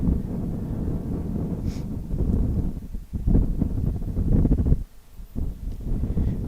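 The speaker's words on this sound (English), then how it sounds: "So the wind, I don't know, would be probably gusting 20 miles an hour right now." Strong gusting wind buffets a microphone at Oklahoma City's Will Rogers World Airport, a heavy low rumble that surges and drops in irregular bursts, with a brief lull near the end.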